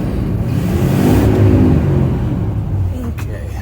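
A 1986 square body K10 truck engine idles nearby with a loud, low, steady rumble, alone and unbroken.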